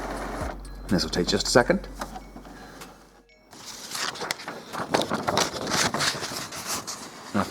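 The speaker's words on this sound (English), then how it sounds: "Now make sure you've got paper in the printer, press this button to print." An Epson Stylus SX435W inkjet printer starts a nozzle check page with whirring feed and print-head motor noise and a few mechanical clicks, close and moderately loud, with a voice talking over the start before the machine runs alone.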